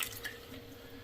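Water pours steadily into a British ration pack flameless heater bag, a soft continuous splashing and trickling fill with no voices.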